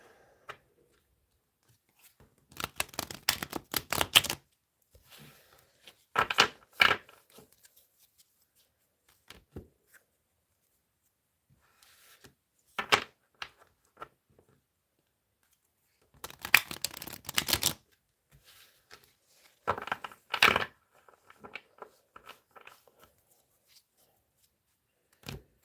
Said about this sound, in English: Let's have a good shuffle.